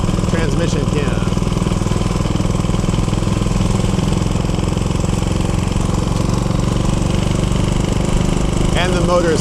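A tired motorcycle engine with a worn clutch and transmission runs steadily in Tokyo city traffic, a loud continuous rumble throughout with brief background voices near the start and end.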